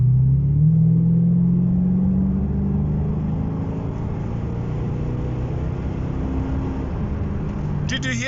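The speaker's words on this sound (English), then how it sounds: "I'm just gonna floor it, and then I want you guys to listen to the engine." A Chevrolet Lumina SSV engine at full throttle drones loudly from inside the cabin, its pitch rising briefly then settling into a steady rumble as the vehicle accelerates, with no talk over it.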